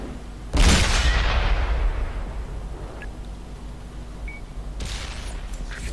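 A tank's main gun fires once in a tank battle game, a loud sudden boom that rolls off into a long fading rumble, followed by a quieter second thump near the end amid steady engine drone.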